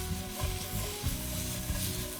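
Beef and vegetables stir-frying in a hot pan over a camp stove, a dense steady sizzle with soft rhythmic scrapes and clicks of stirring, close and loud with no talking.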